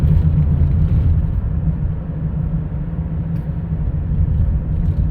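A 2012 Chevrolet Traverse's engine runs with a steady, close, low rumble and whir while the transmission shifts gears, holding an even level throughout.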